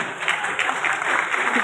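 Audience applause fills a Hindi motivational seminar on direct selling, a dense, steady clatter of many hands lasting under two seconds with no break.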